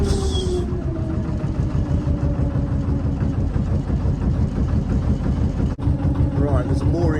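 A Lister diesel engine drives a canal narrowboat, chugging with a steady low rumble throughout. Someone talks over it, and the tone shifts slightly as the revs change.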